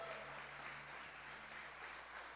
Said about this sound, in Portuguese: Eu queria que vocês dessem uma salva de palmas bem grande para a honra e glória do nome do Senhor